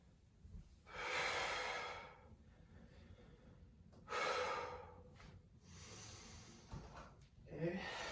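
Deep yoga breaths come in slow, audible waves, long inhales and exhales spaced a few seconds apart, close and soft against a quiet room.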